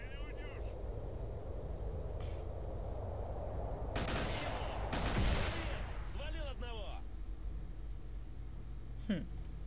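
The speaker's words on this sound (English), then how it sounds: "Is he shooting a pistol against them?" Pistol shots fired in a forest combat video game, a few sharp cracks in a cluster near the middle over steady ambient noise, with a later isolated report.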